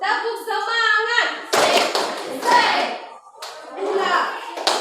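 Children clap out the rhythmic 'tepuk semangat' spirit cheer in a group, sharp bursts of hand claps interleaved with young voices chanting and talking in between.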